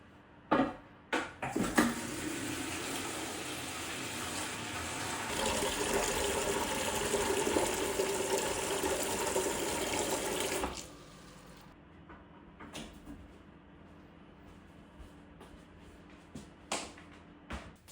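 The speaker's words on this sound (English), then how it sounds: "you want to fill up a bucket of water and soak the raffia for about 20 minutes" Tap water runs steadily into a bucket for about nine seconds to soak raffia for bonsai work. It starts and stops with a few clunks of handling, then quieter knocks and rustles, with no talk.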